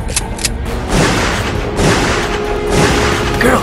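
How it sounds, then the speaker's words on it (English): Nine-millimeter gunfire rakes a resort in an action scene, a loud, dense barrage of booming bursts and crackling shots that continues almost without pause, heard alone without voices. "They're shooting at us!"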